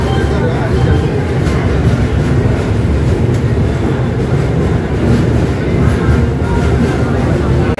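A train at Tirupati railway station makes a loud, steady rumble that fills the whole stretch, with faint voices under it.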